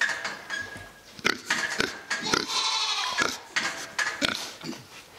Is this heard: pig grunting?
yes